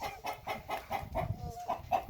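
A farm rooster clucking in a fast, steady series of short agitated calls, close and fairly loud, about four clucks per second, with no talking over it.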